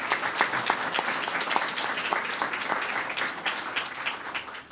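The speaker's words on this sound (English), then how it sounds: "So a round of applause for all of them" Steady applause from a crowd at a public announcement, dense overlapping claps sustained evenly throughout.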